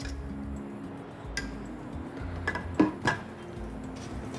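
A spatula folding chocolate sabayon in a bowl gives quiet scraping and a few light clinks against the bowl, sparse and close in an otherwise hushed kitchen.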